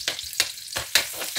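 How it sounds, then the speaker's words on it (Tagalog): Onions sauté in a pan with bursts of sizzling, as stirring sends repeated crackling hisses at a quick, uneven rhythm, close and fairly quiet. "So kailangan natin ikisa yung sibuyas,"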